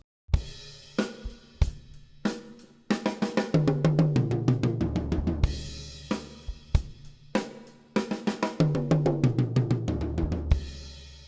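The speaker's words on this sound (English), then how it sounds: "The first fill we're going to play is the fill that every beginner drummer first learns." A beginner drum fill played on a kit, with crisp snare and tom hits stepping downward in quick even runs, each broken by cymbal crashes and repeated twice, loud and close with no voices.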